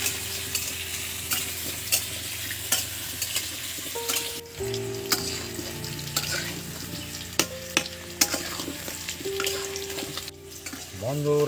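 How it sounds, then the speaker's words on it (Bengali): Potatoes frying in mustard oil in a pan for a jackfruit curry, with steady close sizzling and repeated scraping and stirring strokes of a spatula throughout, no talk. "আলুগুলো ভালো করে ভেজে নেব।"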